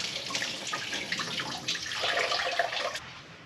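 Water pours and trickles steadily out of a Pontiac GTO radiator as it is drained during removal, a close, continuous splashing flow that swells briefly near the end before cutting off.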